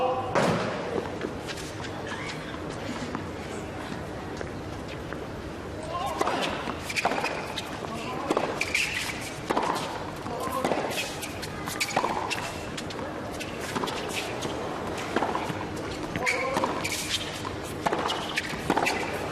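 Two players trade big forehands in the 2002 Miami final, the ball cracking off the racket in repeated sharp hits over crowd murmur, with a commentator talking throughout.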